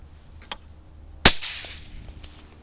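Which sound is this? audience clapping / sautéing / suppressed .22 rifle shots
suppressed .22 rifle shots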